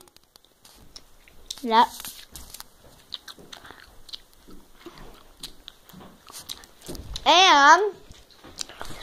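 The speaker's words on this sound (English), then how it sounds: "Well, we'll just chew them." Close chewing and biting sounds crunch softly through the clip, while people talk and exclaim in short bursts over the top.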